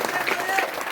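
Applause for a teacher at a village event: a brief, dense patter of many hands clapping at steady loudness, with crowd voices mixed in.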